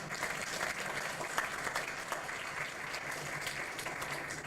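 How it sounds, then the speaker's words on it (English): A crowd applauds public servants at a Minnesota tour event, dense continuous clapping that holds steady and fairly loud from start to finish. "let's give them a round of applause"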